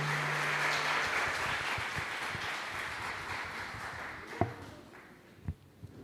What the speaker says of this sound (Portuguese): Você pode aplaudir a Jesus mais uma vez aí?